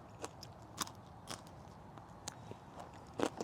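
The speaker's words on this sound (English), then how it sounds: "They sound nice and crispy." Several sharp, crisp snaps and crunches of green beans being bitten into, spaced irregularly, close and fairly quiet.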